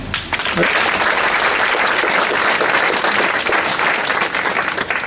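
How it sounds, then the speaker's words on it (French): Steady, dense applause from an audience fills the whole stretch, loud and continuous. "Ils ne sont pas là ce soir, mais on peut les applaudir."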